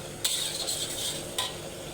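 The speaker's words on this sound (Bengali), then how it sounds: "মাথা লাউ দিয়ে ভালো করে কষাই নেব" Bottle gourd is fried with onion and spices in a pan, giving a soft steady sizzle broken by two brief scraping strokes of a spoon.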